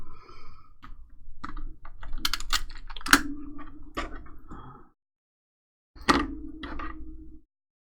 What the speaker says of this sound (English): I'm just going to put some tape runner on the back.